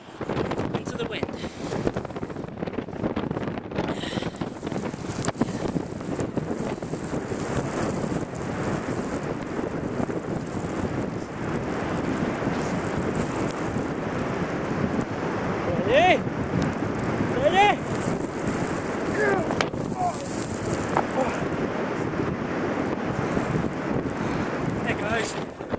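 Strong wind blows across a beach, a constant rough rumble of gusts battering the microphone, loud throughout with slight surges, while a person speaks under the noise.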